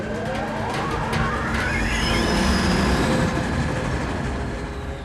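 A cartoon train from a Transformers episode rolls past, a loud continuous rumble with sliding whistle-like tones rising and falling, steady throughout before easing slightly at the end.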